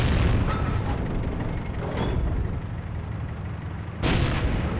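Cannon fire from an SdKfz 234/2 Puma armored car in the Heroes and Generals battlefield, two heavy booming blasts roughly two seconds apart over a constant rumbling engine bed.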